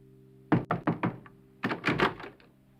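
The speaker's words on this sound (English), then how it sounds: "she knocked on the door" Knuckles rap on a hotel room door in two quick bursts, four sharp knocks, a brief pause, then three or four more, close and crisp over a faint steady hum.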